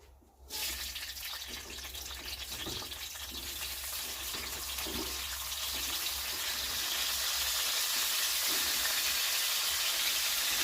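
Desi chicken pieces drop into hot oil in a heated kadai, setting off a sudden loud, hissing sizzle that holds steady and slowly swells, with no talking over it.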